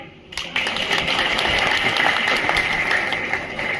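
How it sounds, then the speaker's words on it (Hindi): An audience at a live pension-policy rally breaks into sustained clapping on cue, a dense continuous patter of many hands that starts abruptly and holds steady throughout. "बजाओ ताली।"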